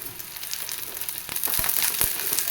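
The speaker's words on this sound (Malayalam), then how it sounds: "2 പച്ചമുളകും കൂടി ചേർത്ത് നന്നായിട്ടൊന്ന് വഴറ്റിയെടുക്കാം" Sliced onions and two green chillies sautéing in hot oil in a pan for a lentil and snake gourd curry: a steady soft sizzle with faint stirring scrapes, growing slightly louder toward the end.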